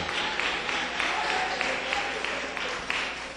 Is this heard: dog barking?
no